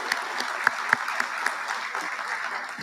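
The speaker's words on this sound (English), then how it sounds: "a round of applause for all the sponsors as well" Steady applause from a dinner crowd at a military awards banquet, honoring the event's sponsors, a dense wash of many hands with a few sharper claps standing out.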